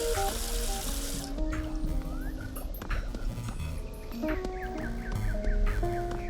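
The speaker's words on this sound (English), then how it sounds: "A faucet. No sink is complete without one of these." Water runs from a sink faucet in the Adventure Time: Finn & Jake Investigations video game, a steady hiss that opens the clip and cuts off after about a second, leaving game music and small chimes playing on.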